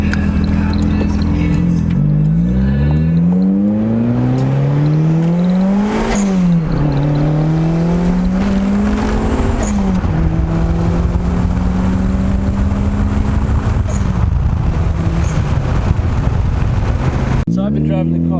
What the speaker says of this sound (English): So I've been driving the car for, I don't know, 30 minutes now on the freeway